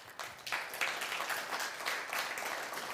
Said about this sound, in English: a round of applause to Mr. Theo